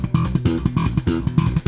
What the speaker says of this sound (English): in the first bar, we're going to be playing some slapped triplets that are going to sound like this